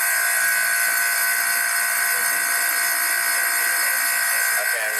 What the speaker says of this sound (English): drone in a vacuum chamber